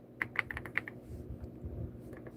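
Keys clacking on a computer keyboard during a live stream: a quick burst of sharp, close keystrokes at the start, then softer scattered taps fading toward the end, with no talk.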